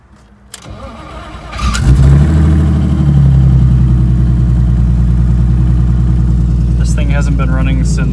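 An S52 turbo engine is cold started after sitting idle since the previous November. It cranks briefly, fires loudly and settles into a steady, close idle, with light ticking toward the end.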